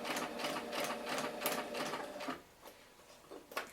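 A sewing machine slowly stitches fabric for a flag poi near a magnet, giving a close, rapid rhythmic clatter of needle strokes that slows and fades toward the end.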